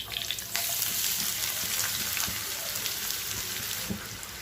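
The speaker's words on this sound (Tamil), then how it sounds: "வெங்காயம் நல்லா வதங்கணும்" Two medium onions sizzle and crackle steadily in a hot pan for a Chettinad egg pepper fry, a continuous frying hiss with occasional stirring clatter.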